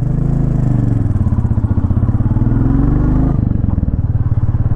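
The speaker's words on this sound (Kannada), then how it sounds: "ಇಂಜಿನ್ನ ಸೌಂಡು ತುಂಬಾ ಚೆನ್ನಾಗಿ ಕೇಳ್ತಿದೆ." A 2024 Royal Enfield Classic 350 single-cylinder engine thumping steadily while riding, a close, loud, even putter with a slight shift in pitch partway through as it pulls in low gear.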